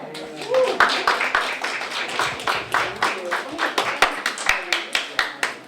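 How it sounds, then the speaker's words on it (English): Audience applause at a people's poetry night following a poetry reading: steady, lively clapping from a crowd, with individual claps standing out close by throughout. "one more round of applause for Maureen, please"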